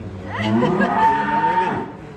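A sacrificial cow named Petroza, weighing around a ton, lets out one long, loud, drawn-out moo up close, with faint crowd noise behind.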